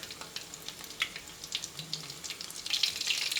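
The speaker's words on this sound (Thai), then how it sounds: "พอกระทะร้อนแล้วก็ใส่กุ้งเราลงไปได้เลยนะครับ" Breaded shrimp frying in a hot pan for a tamarind-sauce dish, a steady crackling sizzle with bursts of popping that grows busier toward the end.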